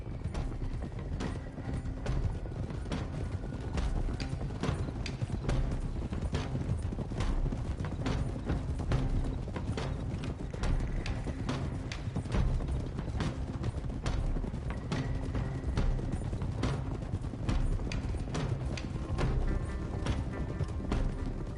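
Horses' hooves clip-clop steadily in Red Dead Redemption 2, a continuous rhythmic trotting of several mounts at moderate distance, with occasional creaks of tack and no speech.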